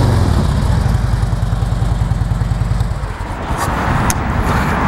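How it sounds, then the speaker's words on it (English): Harley-Davidson Ultra Classic FLHTCU motorcycle with a 96-inch engine, six-speed and Vance and Hines exhaust, idling loud and close with a deep, even lumpy throb that drops off briefly near the end before settling again. "Vance and Hines exhaust sounds real good on it."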